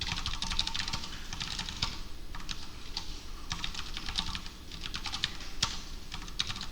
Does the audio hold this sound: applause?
no